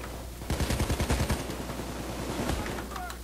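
Rapid automatic gunfire in the video game Payday 2, a loud close burst of about ten quick shots followed by a short second burst, over steady game background noise.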